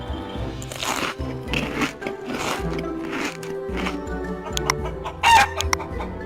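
A chicken clucks and crows close up in a series of bright harmonic calls, ending with a louder burst.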